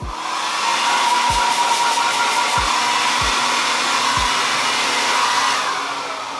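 A hair dryer blows steadily on high heat at the roots of hair during a wash-day routine, a loud, even whoosh that holds for several seconds, punctuated by a few low thumps, with no talking.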